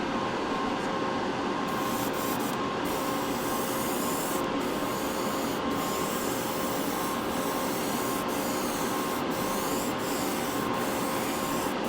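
A Gaahleri Mobius SP airbrush lays down a second coat with the trigger barely pulled, giving a steady, unbroken hiss of air and paint that runs evenly for about twelve seconds, close and alone with no talking.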